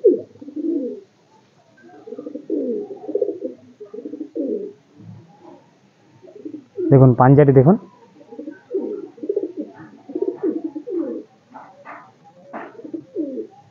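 Madrasi pigeons coo in repeated low, throaty bursts close by, someone speaking between the calls, with one louder, brighter flurry partway through.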